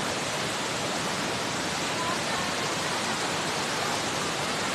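Malatap Falls in Labo roars with a constant, loud wash of rushing water, a dense, unbroken white-noise texture with no pauses.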